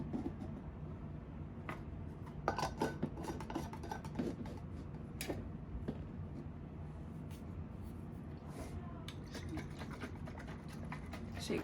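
Lids twisted and set onto jars of coconut kefir, producing repeated close scraping, rubbing and clinking taps in an irregular rhythm over a quiet background.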